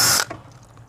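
Ratchet turning screws loose on the coil of a York gas package unit, a short burst of clicking mechanism up close followed by faint handling noise.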